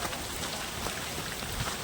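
Steady heavy rain falls during a wet day near a college, a dense, continuous hiss of drops on surfaces with no break and no voices.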